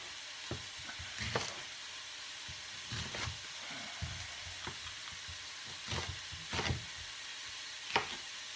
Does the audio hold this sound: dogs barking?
no